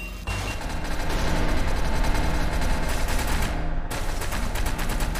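Rapid, sustained automatic gunfire from a gun in the shooter Mimicry, loud and close, with a dense rattling rhythm that pauses briefly near the end before resuming.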